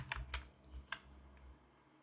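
Several sharp keystrokes on a computer keyboard come in a quick irregular burst, then a lone tap follows, close and fairly quiet, with no talk.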